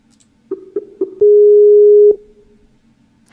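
Skype echo sound test call connecting: a few short tonal blips, then one longer steady tone, then a closing click, clean and close against a quiet background.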